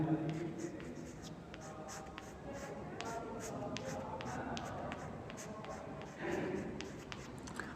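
Pen or pencil scratching steadily on paper while a chemistry mechanism for benzene reacting with methyl chloride and anhydrous AlCl3 is written out, a soft continuous rasp with small taps under a voice talking throughout.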